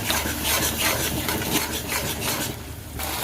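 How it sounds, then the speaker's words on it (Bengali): A spoon scrapes and stirs a spice mixture with curd in a pan continuously, producing close, rhythmic rubbing and scraping strokes with no voices. "দইটা দেওয়ার পর কন্টিনিউয়াসলি এটাকে মিক্স করতে হবে।"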